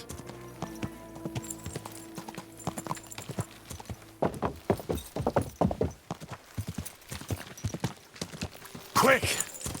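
Horse hooves clip-clop on the ground in the Kingdom Come: Deliverance video game, a steady rhythm of close, distinct strikes with a brief whinny near the end and speech over parts of it.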